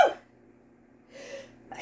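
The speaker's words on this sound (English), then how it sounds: "oh my goodness, I'm gonna sneeze." A single sneeze bursts out near the mic, with a sharp breathy onset and a faint rasping release after a short quiet pause.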